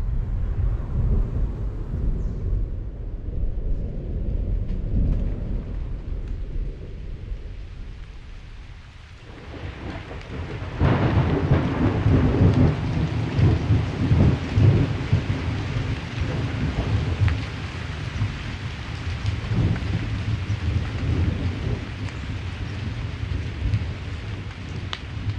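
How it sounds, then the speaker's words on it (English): Thunderstorm with rain over a pond: deep rolling thunder rumbles, then after a brief lull a loud, steady wash of rain with further low crashes of thunder, close and enveloping, with no voices. "a storm gives way to dawn over the pond"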